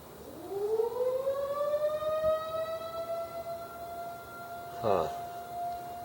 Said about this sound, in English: Not sure what the siren is about.